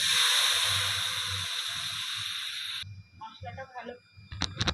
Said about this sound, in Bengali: কড়াইতে তেলের মধ্যে দিয়ে দেবো কালো জিরে। এরপর দিয়ে দেবো মশলা করেছিলাম